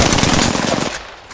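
Rapid automatic gunfire rattles loud and close in Apex Legends, a dense burst of shots that cuts off abruptly, leaving a brief quiet tail.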